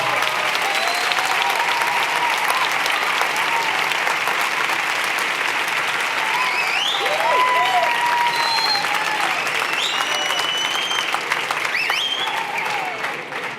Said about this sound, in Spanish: Por favor, otro fuerte aplauso a Juan Ramón Rayo.